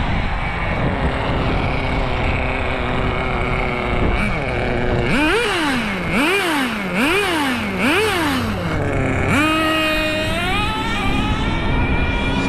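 A nitro engine in an HPI RS4 radio-controlled car with the stock clutch and new gearing, idling loudly up close, then revved in four quick rising-and-falling blips, then held at a high whine near the end.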